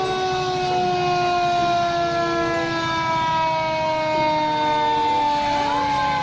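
A toy fire truck's electronic siren wails steadily and fairly loud, with rising and falling tones, heard alone and close up.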